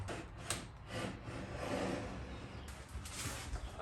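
Wood is cut by hand for a custom display case, a faint, close rasping scrape with uneven repeated strokes and no talking.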